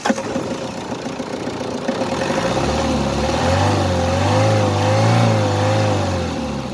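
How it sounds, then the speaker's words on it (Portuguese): Turbocharged Mahindra 2.6 diesel 4x4 engine started and running at idle, a steady close diesel clatter with a low rumble that swells slightly as it settles. "Você pode funcionar o motor dela, por favor?"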